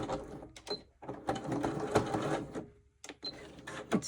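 A home sewing machine stitches a fabric sachet in short bursts, its rapid mechanical whir starting and stopping close by with brief pauses between runs.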